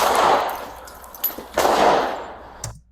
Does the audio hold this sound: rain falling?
no